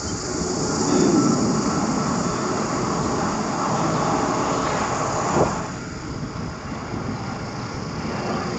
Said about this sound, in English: Got another plane taking off there.